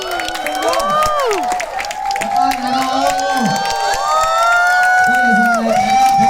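A live audience cheering and screaming loudly for a guest at a Hong Kong entertainment event, dense high-pitched shrieks and whoops under a host's amplified voice.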